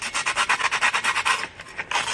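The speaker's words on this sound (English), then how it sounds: "So here's my sandpaper, my favorite sandpaper. It's a fine one. I'm just gonna sand it like this." Fine sandpaper rubbed over the chipped edge of a glass in quick back-and-forth strokes: a steady, rhythmic rasping scrape, close and fairly loud, pausing briefly before resuming.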